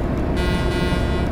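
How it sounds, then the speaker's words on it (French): Truck horn in Euro Truck Simulator 2 sounding as a steady, loud, sustained blast over a dense rumble of engine and road noise, with no break through the short stretch. "le bouton en bas à droite, c'est pour klaxonner"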